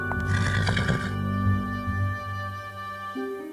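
An old horse neighs loudly in a fairy-tale scene, a long wavering whinny that fades over a few seconds against a steady musical drone, with no talking.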